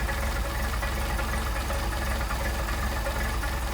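A Mercedes 190SL engine with Solex carburetors idles steadily during idle adjustment, its even, close, continuous mechanical rumble running unbroken with no voices.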